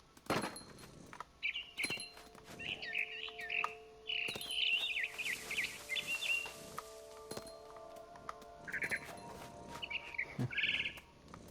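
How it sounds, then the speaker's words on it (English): A barn swallow chirps rapidly in the video game What Remains of Edith Finch, with bursts of twittering calls over soft clicks and faint steady background tones. "Then I heard chirping outside my window. It was a barn swallow going back to her nest."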